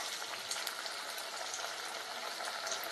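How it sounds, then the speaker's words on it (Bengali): Drumstick flower fritters fry in hot oil, a faint, continuous, even sizzle and bubbling with no talk over it. "এবার আমি এগুলো তেলে ছেড়ে দিচ্ছি।"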